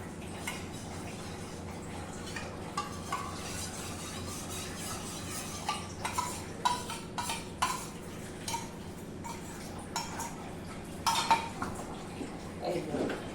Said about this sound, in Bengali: এখন আমি কন্টিনিউ নাড়তে থাকবো যতক্ষণ না একটু ঘন হয়ে আসে